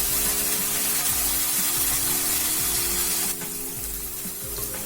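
Chicken frying in a pan for a dhaba-style curry, a steady loud sizzle with constant crackling that drops slightly in intensity partway through.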